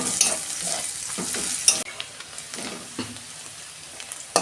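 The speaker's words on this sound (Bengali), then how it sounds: "এই যে পেঁয়াজ রসুন ভাজা হয়ে গেছে, এই যে পাট শাকটা দিয়ে দিচ্ছি।" Chopped jute leaves being stirred into fried onion and garlic in a pan, with a steady close sizzle and several loud spatula scrapes and clatters against the pan.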